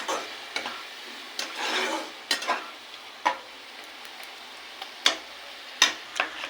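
Ground spices fry in oil for an egg curry with a steady, close sizzle, broken by the scrape and tap of a utensil stirring the pan at irregular moments, with no talking.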